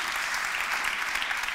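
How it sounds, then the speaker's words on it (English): Audience applause at an Ignite Zurich talk, a steady dense clapping that fills the whole moment without pause, loud and close with no voices standing out. "We should give him a clap for that."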